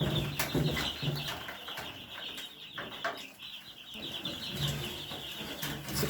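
Broiler chicks in a cage on a small home poultry farm, a dense chorus of high, rapid peeping with scattered soft clucks and wing flutters, fairly faint and continuous.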